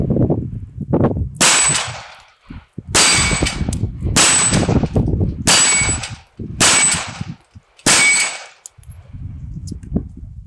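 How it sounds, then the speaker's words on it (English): A compact 9mm handgun fires six loud shots at an even pace. Each shot has a sharp crack and a ringing, metallic tail, with short quiet gaps between them and no talking. "I can't believe you stuffed a 9mm into this thing. Never handled one before, let's see how it shoots."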